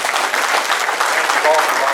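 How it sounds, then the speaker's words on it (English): A banquet audience at an induction ceremony gives a round of applause, a continuous, fairly loud wash of many hands clapping throughout the short stretch. "Let's give another round of applause to Angie Robinson."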